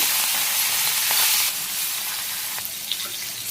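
Fish coated in turmeric, chili and salt frying in hot oil, giving a loud, steady hiss and sizzle up close with a few small pops near the end.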